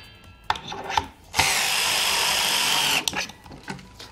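A power screwdriver drives a screw into a terrace decking board: a few close taps and short bursts, then a sustained loud whir of about one and a half seconds, followed by light knocks.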